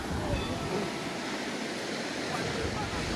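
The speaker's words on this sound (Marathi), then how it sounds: "मित्रांनो ही आहे अलकनंदा नदी" The Alaknanda river at Badrinath rushes in a continuous, even wash of flowing water, steady and moderately loud throughout.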